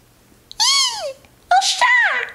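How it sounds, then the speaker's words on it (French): A cat meows twice, as a sound effect: two clear, close, drawn-out calls, the second rising then falling, with quiet gaps around them. "Un chat."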